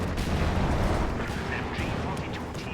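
Mortar fire in a World War II strategy video game, as German panzer forces try to break out of an encirclement: a dense, continuous rumble of blasts and booms, loud and close, with no clear pauses.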